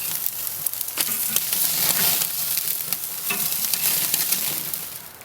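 Steaks sizzle on a hot Grill Dome Kamado grill, a continuous close crackle and hiss with sharp pops and occasional scraping as the meat is handled.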